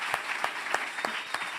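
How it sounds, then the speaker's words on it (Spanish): A church congregation claps in a brief, rhythmic burst, evenly spaced beats at moderate volume. "denle un fuerte aplauso a Jesús"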